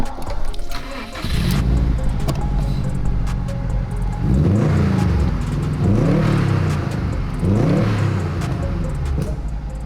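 STI-swapped Subaru Impreza Bugeye fitted with an HKS High Power exhaust starts up and idles with a deep burble, then revs loudly three times in rising, falling sweeps, close and alone.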